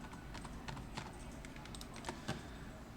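Quiet clicks of computer keyboard keys pressed during work in Illustrator, a few scattered taps at close range over a faint background hiss.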